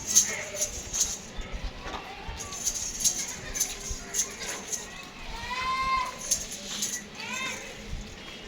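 A Pateri goat close to kidding bleats at a goat farm in Karachi, with a few wavering calls rising in the second half while someone talks over the farm background.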